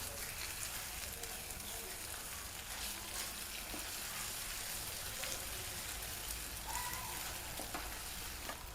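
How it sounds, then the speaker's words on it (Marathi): Onion and green chili sizzle steadily in a pan with ground masala for methi bhaji, a continuous crackling fry with occasional stirring scrapes. "कांदा आणि मिरची छान परतून घ्यायची।"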